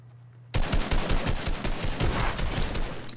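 Rapid automatic gunfire in the video game Fortnite, a dense, loud burst of shots that starts abruptly and runs continuously for a few seconds.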